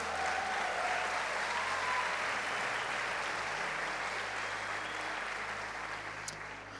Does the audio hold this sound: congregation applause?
yes